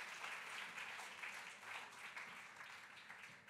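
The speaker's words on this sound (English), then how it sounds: "Let's have a round of applause for those." An awards ceremony audience at the WGA Awards in Los Angeles claps in a continuous, fairly even round of applause, heard from a short distance with no voices on top.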